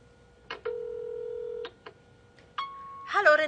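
An answering machine plays a series of electronic beeps and a long steady tone before the message, clean and close, and a voice starts speaking at the end.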